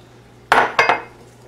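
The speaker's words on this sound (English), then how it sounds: "Just going to take my lid off," A metal lid lifted off a pot of stew, with a sharp clank followed by two quick scraping clatters close by, then quiet.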